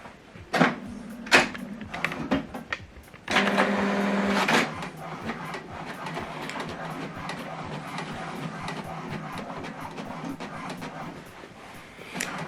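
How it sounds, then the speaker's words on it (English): A Canon or HP printer prints a double-sided document: a few mechanical clunks, a loud whirring feed burst, then a long, steady hum of paper moving through the mechanism, close and alone. "once it's telling us the first set of document is printing"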